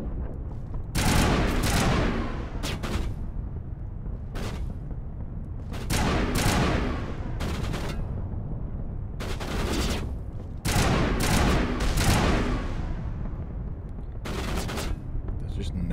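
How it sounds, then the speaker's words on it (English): Assault rifle fire in Mass Effect, loud sustained automatic bursts of a second or two each, separated by short pauses, repeating through the fight with game chatter in between. "That's the assault rifle."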